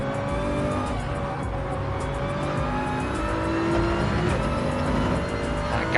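Onboard engine sound of a race car in Gran Turismo 7 during a six-hour race at Spa, a loud, continuous high-revving roar with shifting pitch and tire noise.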